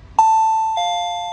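Alert chime from an alarm bell unit made for elderly and sick people: a loud electronic two-tone ding-dong, first a clear high tone then a second lower tone that rings on and slowly decays, with no talk.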